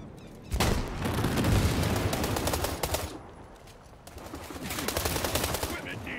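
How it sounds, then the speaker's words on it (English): Gunfire in World War 3, a modern military shooter: dense, continuous automatic bursts mixed with booms, loud and close for about three seconds, then a brief lull before another volley of rapid shots. "Where am I getting shot at?"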